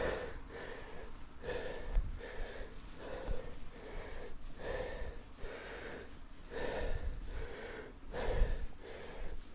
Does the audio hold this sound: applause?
no